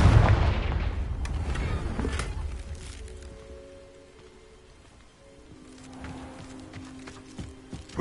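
Confringo spell explosion in Hogwarts Legacy, a loud booming blast that hits at once and rolls off over a couple of seconds, leaving a quiet tail of faint game ambience and tones.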